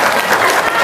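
Audience applause during a talk, a short burst of dense crowd clapping, loud and steady for under a second.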